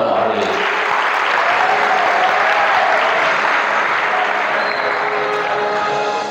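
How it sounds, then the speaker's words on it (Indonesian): Dense, loud audience applause at an MC training event fills the whole stretch with steady, continuous clapping and no pause. "tunjukkan tepuk tangan antum untuk Nusantara hari ini."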